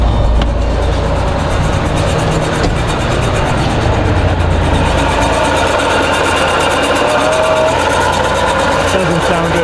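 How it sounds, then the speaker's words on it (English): A Porsche 968 engine with a suspected belt problem runs at a steady, loud idle, a continuous mechanical drone with a faint whirring layer, while a voice speaks over it. "It sounds like a belt or something down there."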